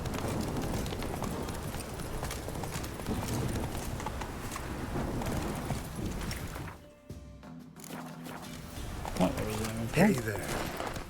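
Roach the horse galloping in The Witcher 3: Wild Hunt, a fast, steady drum of clip-clopping hooves that drops out briefly and returns, with someone speaking over the sound.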